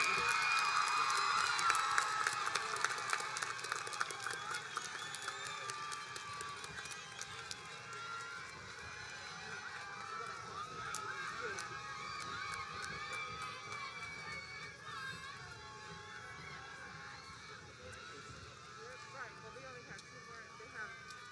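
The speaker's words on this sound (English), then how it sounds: "Give yourselves a hand of applause" The Carver Vocational-Technical High School class of 2021 claps and cheers at its graduation, loudest at the start and then settling into a steady, fainter crowd clamor with scattered shouts and voices.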